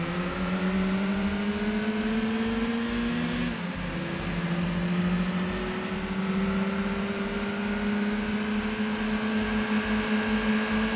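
A front-wheel-drive race car in Gran Turismo 2 drones at steady high revs, its engine note climbing smoothly, then dropping briefly at one gear change before climbing again, loud and continuous throughout.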